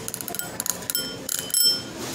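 A new light-up bicycle bell being tried out in a store gives a quick series of bright metallic dings, rung several times close by in an uneven rhythm.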